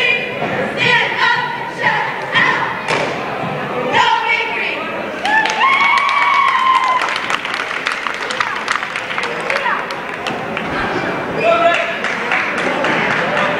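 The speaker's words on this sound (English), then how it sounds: "we'll have a cheer from the Chazy Eagles" Chazy Eagles fans cheer and clap in a gym during a timeout of a boys' basketball game against Saranac, with loud crowd noise, shouts and a rhythmic chant rising and falling under and between voices.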